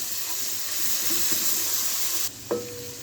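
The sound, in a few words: ginger garlic paste stirred into sizzling onions in a pan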